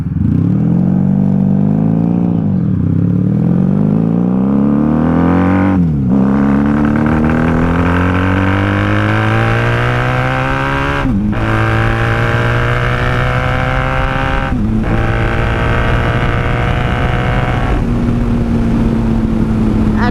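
A 1994 Honda Magna VF750C motorcycle pulls hard through the gears, its close, loud engine climbing in pitch with each run, then dropping sharply at the shifts, ending in a steadier cruise under heavy wind roar.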